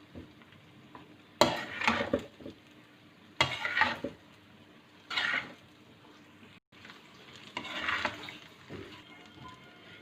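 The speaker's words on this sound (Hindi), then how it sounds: "ये हमारी नूडल्स अच्छी तरह से मिक्स हो गई है" Noodles being stirred and tossed in a pan with soy sauce and chili sauce, giving bursts of scraping, clattering stirring over a low sizzle, in several separate strokes with quieter gaps between.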